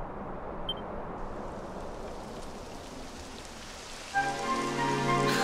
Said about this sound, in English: Oh, typical. It would have to go and start raining, wouldn't it?